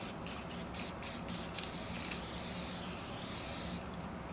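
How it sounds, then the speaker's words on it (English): Facial mist setting spray is misted from a pump bottle in a steady, close hiss lasting several seconds, with a few short bursts near the start, then it stops near the end. "You just spray it like that."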